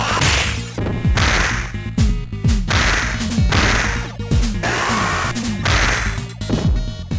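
A lead pipe strikes thugs in the Sega Genesis video game Streets of Rage 2. Loud, sharp whacks and swishes repeat in a quick, steady rhythm over game music.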